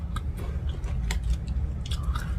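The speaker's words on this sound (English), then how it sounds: "all the crunching and munching and jaw popping and talking while chewing food" Close, steady crunching and wet chewing of salad, with repeated crisp bites and mouth noises standing out over a low, continuous background hum.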